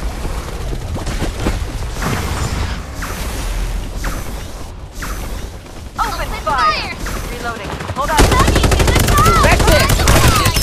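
Gunfire in the mobile battle royale video game Farlight 84, loud bursts of shots and mechanical weapon clatter mixed with game effects, with voices heard in the mix and a dense rapid-fire stretch near the end.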